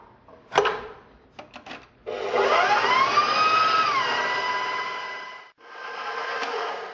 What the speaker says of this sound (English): you can use a hand mixer